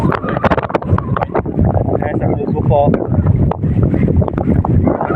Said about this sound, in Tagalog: Lakas po na hangin, kaya nasa gilid kami.